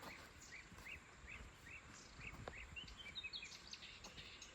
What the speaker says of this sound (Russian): А птицы-то поют как.